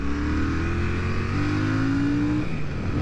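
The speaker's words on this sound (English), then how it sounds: "It's a very smooth engine," Royal Enfield Shotgun 650 parallel-twin motorcycle accelerating on a road, a close, loud, steady engine drone whose pitch climbs smoothly throughout with wind rush, no talking.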